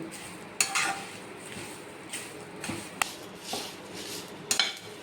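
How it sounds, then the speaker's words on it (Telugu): Curry leaves being dry-roasted and stirred in a pan for homemade curry leaf spice powder, with sharp scraping and clinking strokes of a spoon against metal at irregular intervals over a faint steady background. "వేగేంతవరకు ఇలా కలుపుతూ ఉండాలి"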